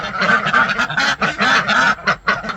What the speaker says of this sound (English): all the other ducks came in and stole it